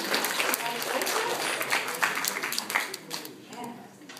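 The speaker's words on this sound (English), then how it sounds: "clap during this one" Applause at an end-of-year school awards ceremony, a crowd clapping steadily and then tapering slightly toward the end, with speech heard over the clapping.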